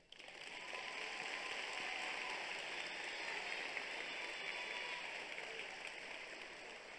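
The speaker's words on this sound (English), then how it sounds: "that deserves a resounding round of applause" A graduation commencement audience applauds in a steady, faint wash of many hands clapping that holds for several seconds, with no talk over it.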